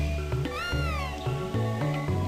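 A cat meows in Chrono Trigger DS, one clear rising-and-falling meow over steady game music.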